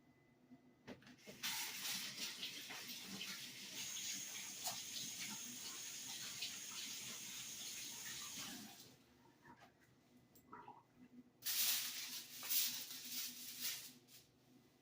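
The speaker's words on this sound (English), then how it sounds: "I'm just going to wash my hands." Water runs from a kitchen tap while hands are washed, a steady gush that flows for several seconds, stops, then starts again briefly. It is moderately loud and close, with no talking.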